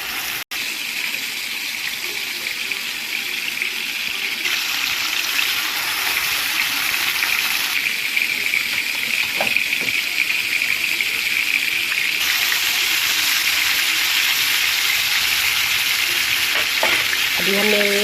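Marinated chicken tikka pieces frying in hot oil, a loud, steady, close sizzle that holds for the whole stretch, with a few faint clinks of a utensil and no voices.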